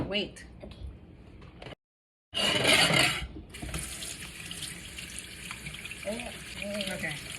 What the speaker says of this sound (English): Annie, you got to rinse your hands, girl